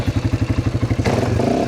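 Four-wheeler ATV with a new exhaust, baffle still installed, running nearby in a steady pulsing idle of deep, even throbs that briefly swell into a fuller, rougher rumble near the end.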